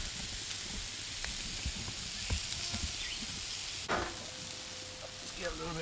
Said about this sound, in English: Everything sizzling, popping like it should.